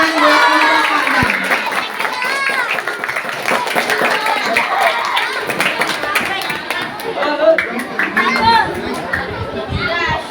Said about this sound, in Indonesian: Kasih tepuk tangan buat kelompok Vandam